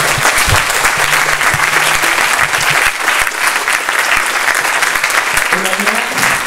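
Audience applause at a film premiere screening, loud, dense and sustained clapping from a theatre crowd filling the whole stretch, with a few voices faintly mixed in near the end.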